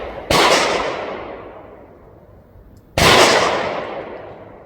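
Two sharp gunshots from a Husqvarna 1907 pocket pistol in .380 ACP, fired outdoors about three seconds apart, each loud and close with a long decaying echo trailing behind.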